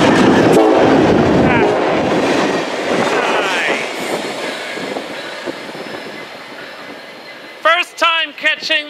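A geometry train rolls past close by at a Fullerton rail spot, a loud rumble with clattering wheels that fades, then a horn sounds in short blasts near the end.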